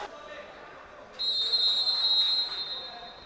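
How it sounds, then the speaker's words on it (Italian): A referee's whistle at a Serie A futsal match sounds one sustained shrill blast of about a second over faint arena ambience, fairly close and clear. "Fischio dell'arbitro."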